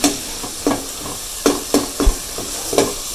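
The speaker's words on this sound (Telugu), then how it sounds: "అల్లం వెల్లుల్లి పేస్టు కరివేపాకు బాగా వేయించుకోవాలి" Ginger garlic paste and curry leaves fry in a pan for fish curry, a soft, constant sizzle marked by about eight sharp spatula scrapes and taps at an uneven rhythm.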